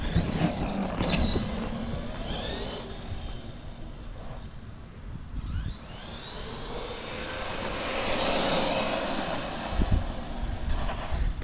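A brushed ARRMA Gorgon RC car runs at full throttle on a street, its steady electric motor whine holding loud and continuous, with a rising, sweeping pitch as it speeds off and passes.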